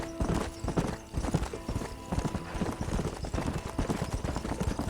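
Horse hooves clip-clopping at a steady gallop in the Western video game Red Dead Redemption, a loud continuous rhythmic pounding with occasional whinnies, close and dominant with no talk over it.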